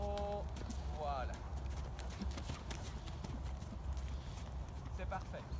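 A horse trots on a lunge line during a training session, its hooves clip-clopping in a quick, steady rhythm that carries on under the rider's calm talk, with a brief whinny-like sound early on.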